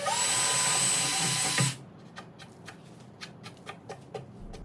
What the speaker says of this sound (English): when you drill these holes, you want it to be bigger than the screw